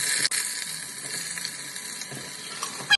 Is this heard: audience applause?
no